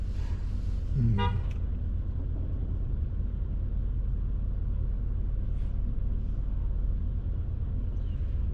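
Heavy traffic on Junction Boulevard in Corona, NYC, with a short horn toot rising early out of a constant low engine rumble heard from inside a car, and faint distant sounds later.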